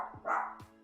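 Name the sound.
dogs barking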